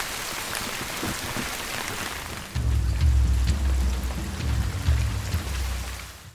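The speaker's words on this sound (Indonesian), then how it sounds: "Saat hujan turun dengan deras, mereka terpaksa berhenti sejenak" Heavy rain falls in a forest, a steady wash of drops on surfaces with a deeper rumbling pour rising midway, loud and continuous with no voices.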